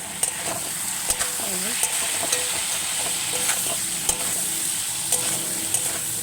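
Katla fish pieces with cauliflower and potato, seasoned with turmeric and salt, sizzle steadily in a pan, with a few sharp scrapes and clinks of a spatula stirring through the hiss, close and continuous.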